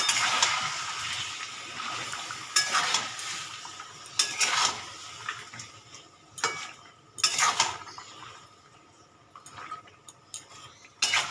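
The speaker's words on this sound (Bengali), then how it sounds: "এবার এই মাংসটা আমি কষে নেবো" Chicken meat for biryani is stirred and fried in a pot, with scraping spoon strokes and clanks against metal in uneven bursts over a soft sizzle, close by with no talk.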